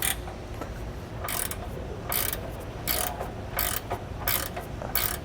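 A ratchet wrench turning a nut off an anti-sway bar bolt during a Roadmaster front anti-sway bar install on a 2013 Newmar motorhome, several short bursts of rapid clicking repeated in a steady rhythm, close and clear with no talking.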